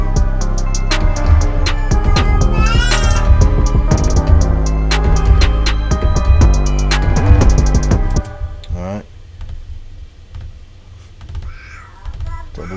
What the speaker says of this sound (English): You hear those baby sounds in the background.